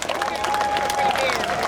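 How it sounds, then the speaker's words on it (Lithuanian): A concert crowd at a midsummer Joninės festival in Elektrėnai bursts into applause, a short burst of dense clapping with cheering while an announcer speaks over it. "Garsūs aplodismentai!"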